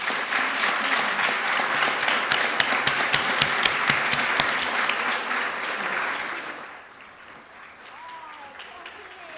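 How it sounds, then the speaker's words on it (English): An audience at a University of Iowa event breaks into sustained applause, dense and steady, then fades out as the clapping dies down near the end. "show you their appreciation with a nice round of applause"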